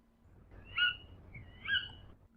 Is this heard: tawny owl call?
yes